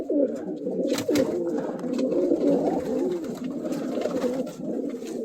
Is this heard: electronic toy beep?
no